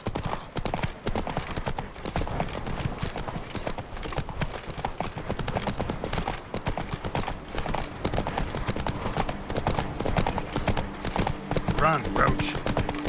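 Roach the horse gallops in The Witcher 3, with steady rapid hoofbeats throughout and a brief whinny late on, while voices and shouting from the game play over the top.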